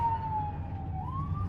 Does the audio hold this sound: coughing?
no